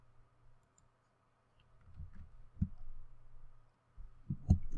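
A computer mouse clicked in a quiet room, a few soft, close clicks scattered across the moment with faint low thumps between them, no voices.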